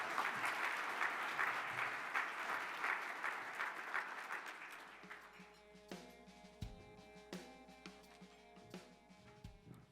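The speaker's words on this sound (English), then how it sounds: "Let's give them one more round of applause." Applause for honorees at an annual luncheon fills the room at first, then thins out to a few scattered, separate claps as it fades.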